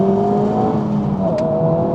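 A manual FL5 Honda Civic Type R engine revs hard in second gear after a downshift, a loud sustained drone whose pitch bends up and down.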